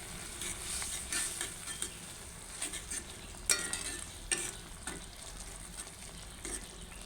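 Cumin and coriander powder being stir-fried with spices for a fish and eggplant curry, with a soft sizzle and intermittent spatula scrapes and taps against the pan, faint and close, and no voices.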